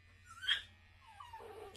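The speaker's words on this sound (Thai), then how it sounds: "น้องปอมตัวนี้นะครับ เห่าเก่งมากครับ" A Pomeranian being groomed lets out a faint, short yelp, then a soft whining whimper, close by in an otherwise quiet room.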